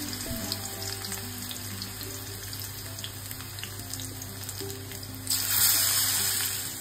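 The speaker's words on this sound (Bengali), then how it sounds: "তো চলুন গরম গরম পেঁয়াজিগুলো ভেজে নিই।" Onion fritters (peyaji) fry in hot mustard oil, a steady close hiss and bubbling that grows louder and brighter near the end.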